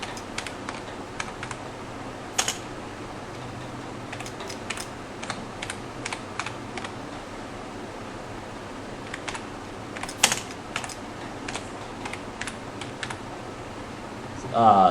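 Clicky typing on a computer keyboard during HTML coding, steady runs of close keystrokes with a few louder taps, beneath quiet background hiss.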